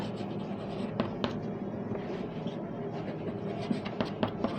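Writing on a board during a lesson, a steady scratchy stroking with a few sharper taps, heard over a continuous low room hum and no clear talking.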